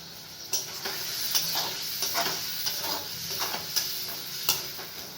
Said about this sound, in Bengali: এবার কষিয়ে নেব।